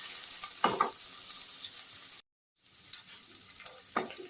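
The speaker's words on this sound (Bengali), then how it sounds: "পেঁয়াজটাকে একটু আমি লাল লাল করে এবার ভেজে নিচ্ছি।" Onions sizzle steadily in hot oil as they brown for a vegetable lentil dal, with occasional stirring scrapes and a brief break in the frying hiss.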